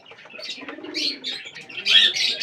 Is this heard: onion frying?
no